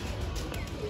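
A pigeon coos softly near a net on a rooftop, a brief low murmur against steady outdoor background noise.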